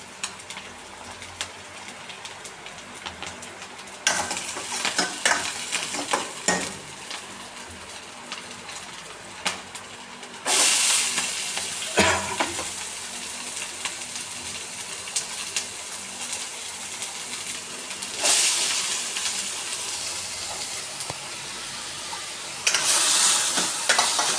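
Onions fry in a pan for a Kerala-style kadala curry, a steady hissing sizzle with periodic scraping stirs growing louder at intervals, close and continuous with no talk.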